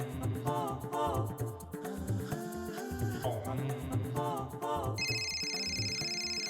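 A telephone ringtone sounds in a home, its bright repeating electronic tones coming in near the end over background music.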